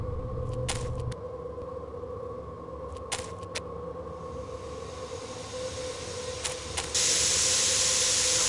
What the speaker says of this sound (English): This must be where the steam is escaping. It's quite hot, even from a distance.